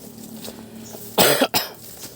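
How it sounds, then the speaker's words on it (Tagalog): A person outdoors gives a single sharp, close cough followed by a brief second burst, breaking an otherwise quiet background. "ako yung inuubo"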